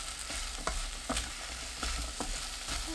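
Zucchini and green onion are stir-fried in a pan, with a soft steady sizzle and a series of light, scattered stirring taps and scrapes, faint and close.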